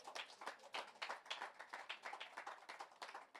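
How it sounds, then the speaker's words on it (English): A townhall crowd gives a round of applause for breakfast-program volunteers. The rhythmic clapping sounds faint and distant, with no talk over it. "give them a round of applause."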